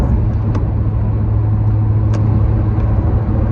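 Steady low road rumble and engine drone fill the cabin of a moving car, loud and continuous with a few faint clicks and no talk.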